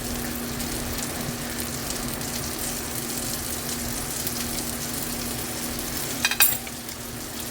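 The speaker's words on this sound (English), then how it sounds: "I'm gonna let it cook for just a few seconds without the top on it." Spanish mackerel sizzles steadily in a hot, uncovered pan, a constant loud frying hiss running throughout with a brief clink of utensils near the end.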